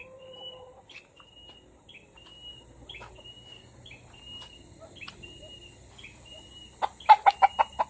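Chickens and a fighting rooster cluck on a farm after a typhoon, with repeated short clucks at mid distance, quiet insect-like background hum, and a burst of loud, rapid clucks near the end.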